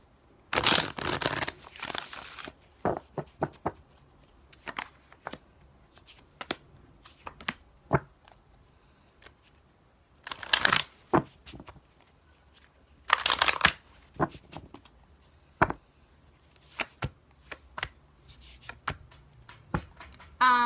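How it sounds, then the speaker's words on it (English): Tarot cards are shuffled by hand in repeated bursts of rustling and soft riffling with brief pauses between them, close and fairly quiet, with no talking. "That's why I'm shuffling so much."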